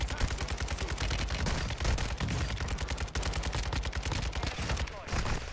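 Rapid video game gunfire as a player empties a full SMG magazine, a dense, loud, continuous burst of automatic shots running almost unbroken to the end with a brief gap near the close.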